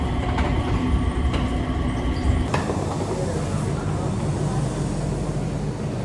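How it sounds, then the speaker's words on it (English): Automated airport SkyTrain carrying passengers to Terminal 3 at night, a steady rumbling ride with rolling low-end noise and a clunk partway through, under scattered talk. "SkyTrain to Terminal 3."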